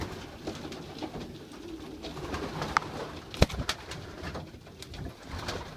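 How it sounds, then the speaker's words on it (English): Pigeons coo in a backyard loft of young birds and hens, soft repeated low coos close by, with one sharp clatter or wing flap midway. "you gotta feel the pigeons. Beautiful pigeons."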